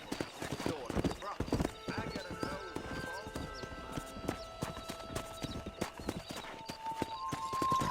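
A horse gallops in the Red Dead Redemption video game with rapid, rhythmic hoofbeats and a whinny, while voices talk over the ride.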